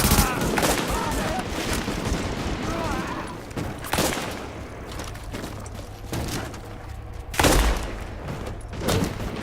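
Gunfire in The Division beta rattles in repeated bursts and single sharp shots, loud and close, with some booming hits over continuous game noise and voices talking.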